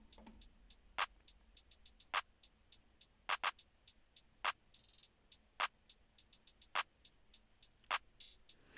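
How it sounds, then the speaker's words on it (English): Hi-hat drum sample in a bouncy R&B beat, a rapid run of short, crisp ticks in an uneven, syncopated pattern, with one longer open sizzle midway, playing alone and fairly quiet. "Then I decided to go in and add a hi-hat."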